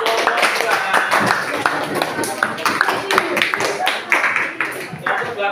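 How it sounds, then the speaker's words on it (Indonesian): Classroom audience clapping for a student group, a dense run of many hands with individual sharp claps standing out, lively and steady for several seconds, with some voices mixed in. "tepuk tangan untuk kelompok 3"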